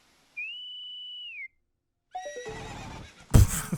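In Ocarina of Time, the horse Epona is called with a sustained whistled ocarina tone, then a loud neigh and whinny follows, ending in a sharp burst of hooves or noise.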